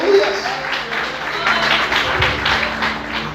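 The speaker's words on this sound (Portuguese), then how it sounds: "Aplauda o Senhor mais forte." A church congregation applauds louder in praise during worship, with dense, continuous clapping and voices mixed in.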